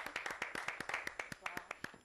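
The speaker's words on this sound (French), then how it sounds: "On va applaudir." Audience on a French TV show applauding a guest, with a quick run of sharp, evenly spaced claps, fairly faint and with a few voices underneath.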